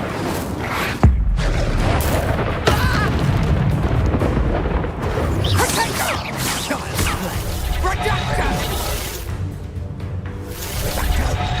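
Incendio fire spell cast in the Hogwarts Legacy wand game: a dense, roaring burst of fiery magic with a sharp blast near the start, then continuous rumbling and crackling effects layered with voices throughout.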